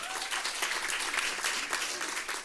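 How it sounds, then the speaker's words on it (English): Audience at an Urban Assembly NYC mayoral candidate forum on education applauds steadily for a couple of seconds, a dense even wash of many hands clapping with no voices over it. "Let's give us a round of applause."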